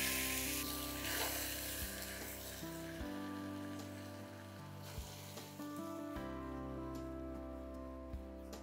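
Pabda fish fry in a hot wok with a continuous sizzle close by, over a steady tonal hum in the background and without speech.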